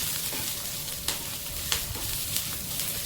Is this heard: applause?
no